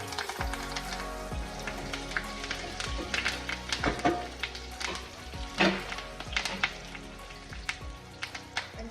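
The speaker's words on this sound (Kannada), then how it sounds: "ಎಣ್ಣೆ ಮತ್ತು ಸಾಸಿವೆ, ಜೀರಿಗೆ, ಕರಿಬೇವು ಮತ್ತು 2 ಬ್ಯಾಡಗಿ ಮೆಣಸಿನ್ಕಾಯಿ ಒಗ್ಗರಣೆ ಹಾಕ್ತೀನಿ" Mustard seeds, cumin, curry leaves and two byadgi chilies crackle in hot oil as a tempering for Mangalore-style cucumber sambar, with sharp irregular pops over a steady close sizzle and no talking.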